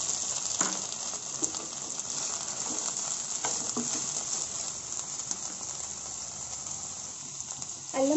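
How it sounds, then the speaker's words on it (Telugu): Ginger pieces and slit green chillies fry in hot oil in a pan, a steady close sizzle with occasional crackles and pops and a stir near the end. "అల్లం బాగా ఫ్రై అవ్వాలండి."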